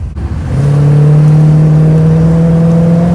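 A 1975 Chevrolet Monza's 350 V8 revs up as the carburetor secondaries open, with a loud, rising engine drone heard from inside the car.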